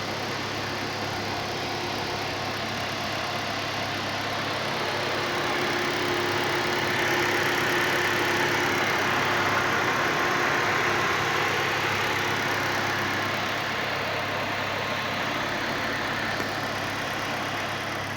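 A rebuilt Hyundai i10 engine running on a road test with new bushings, giving a steady mid-pitched hum with a faint whine that swells slightly midway, continuous and unbroken throughout.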